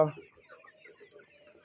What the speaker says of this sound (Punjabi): ਦੇਸੀ ਮੁਰਗਾ